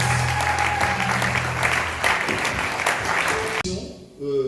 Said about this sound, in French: Let's clap our hands for the Lord.